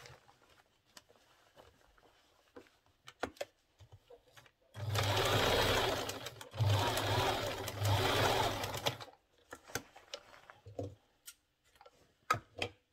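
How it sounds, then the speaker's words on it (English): Sewing machine top stitching a side pocket on pants in two short runs separated by a brief pause, surrounded by quiet clicks and fabric handling. "So now let's top stitch and I'll show it to you guys."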